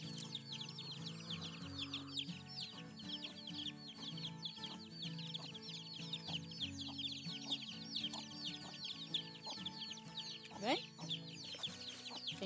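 Farm chickens cluck and call steadily over several seconds as the hens gather in a yard, with a rooster-like crow near the end and faint background activity.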